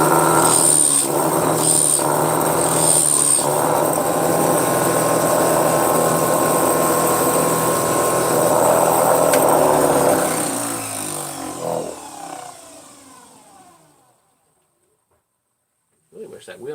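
An off-balance bench grinder wheel spins with a steady, loud, wobbling whir for about ten seconds, then winds down to silence before a brief noise near the end.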